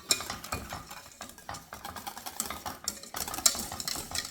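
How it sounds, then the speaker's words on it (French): An egg mixture being stirred in a saucepan over low heat, a soft, continuous scraping and swishing of a utensil against the pan with small clinks, close but faint. "Au début, vous mélangez énergiquement et après, tranquillement, et jusqu'à ce que le mélange épaississe."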